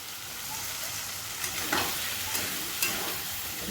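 Water added to a hot pan of matar ghugni with chopped onions gives a steady, close hiss of sizzling with a few soft stirring scrapes, heard alone.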